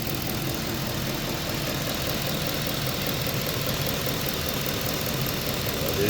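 2010 Ford F-150 engine idling with a knocking fault, a steady low rumble with a faint regular tapping running through it, close and continuous with no talking.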